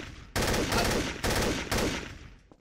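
Gunfire in the game Trouble in Terrorist Town, with three loud, booming bursts in quick succession that ring out close and heavy, then fade, with no talking.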